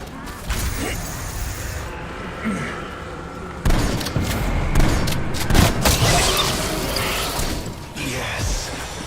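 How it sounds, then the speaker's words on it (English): Guns fire in a zombie shooter video game: loud bursts, booms and mechanical clacks come in irregular clusters, with a voice talking over them at times. "Some pretty bad shooting."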